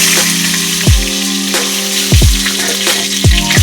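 Dried red chillies, bay leaf and cumin seeds frying in hot oil for a rohu fish curry with papaya and pumpkin, giving a steady close sizzle with several sharp crackling bursts as the spices hit and pop.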